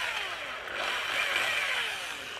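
Drill turning slowly to bore out a steering pitman arm on a one-ton steering setup, cutting oil applied to keep it cool; a steady close, moderately loud grinding whir runs throughout without a break.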